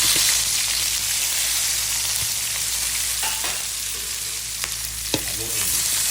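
Garlic and onion sizzle in a hot frying pan with chicken breast to follow, a steady close crackling hiss with a few scrapes and clinks of a stirring utensil, no voices.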